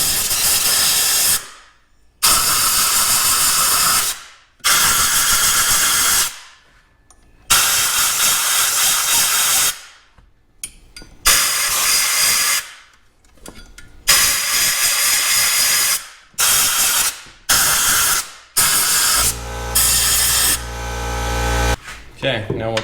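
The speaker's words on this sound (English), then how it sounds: "now we're definitely going to use our air nozzle and blow all the air into these different" Compressed air from an air nozzle blasts in long loud hissing bursts, roughly a dozen of them with brief gaps, as dirt is blown out of the spark plug holes of a Dodge Viper engine.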